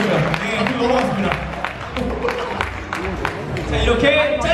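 An audience applauds and cheers at an Overwatch cosplay stage event in Korea, a dense, sustained wash of clapping and crowd noise mixed with excited voices throughout.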